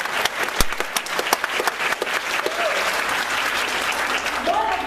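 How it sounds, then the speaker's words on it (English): A graduation ceremony audience bursts into applause, with scattered sharp claps and cheering over a steady wash of clapping, a few whistle-like calls rising near the end. "I believe we all deserve a round of applause"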